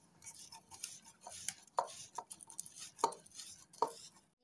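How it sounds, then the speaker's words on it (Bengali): Palm fruit seeds are rubbed against a basket to work out the pulp, producing faint, irregular scraping and soft knocking sounds close by in an otherwise quiet setting. "আটি নিয়ে ঘষে ঘষে তালের কাঠটা বেছে নেব।"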